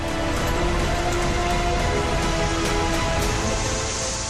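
Heavy monsoon rain pours down steadily and loudly, a dense unbroken hiss of water with no pauses and no voices.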